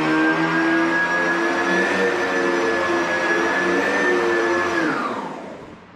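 A vacuum cleaner runs steadily with a loud motor whine and broad rushing air, then winds down near the end.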